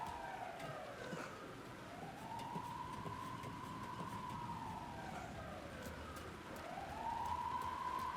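Police siren wailing in the horror game Alan Wake II, a rising and falling tone sweeping slowly through two cycles over a constant background rumble, moderately distant.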